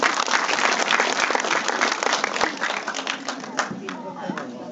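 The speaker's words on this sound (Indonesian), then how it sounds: "Beri tepuk tangan teman-teman." Cinema audience applauding at a film screening and cast talk in Sumenep, a dense steady wash of many hands clapping that thins slightly toward the end, with voices mixed in.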